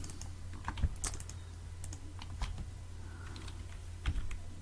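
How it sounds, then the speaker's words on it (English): Computer keyboard arrow keys are pressed in scattered single clicks, close and fairly crisp, with irregular pauses over a quiet low hum. "Using the arrow keys I can scroll it into a specific position that I want"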